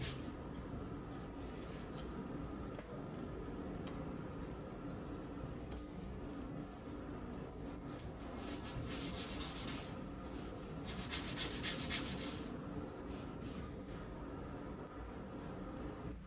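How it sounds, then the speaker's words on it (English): Soft, steady rubbing of sandpaper on a small wooden part of a circular xylophone, a faint continuous scratchy hiss with a few brighter swells of quicker strokes, heard alone. "I'll sand it a bit."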